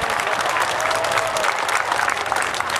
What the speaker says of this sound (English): Let's give this jumper a round of applause.